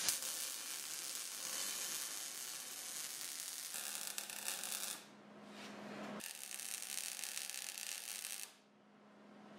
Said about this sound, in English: We can go ahead and weld her up.